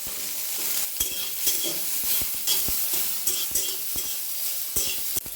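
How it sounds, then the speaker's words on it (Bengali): Soybean chunks fry in hot oil in a pan, giving a steady sizzle with repeated sharp scraping knocks from stirring, close and fairly loud, with no talk. "এবার সয়াবিনগুলোকে ভেজে নেব।"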